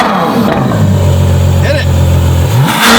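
A four-seater supercar on its stock exhaust revs up close and loud, pitch rising and holding in a strong sustained pull before falling off, with a voice briefly over it.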